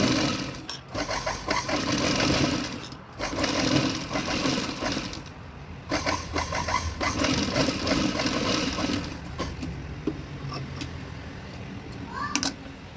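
A sewing machine topstitches a puff sleeve in stiff fabric, its needle running in fast, steady whirring bursts with brief pauses between stitching runs, close and fairly loud.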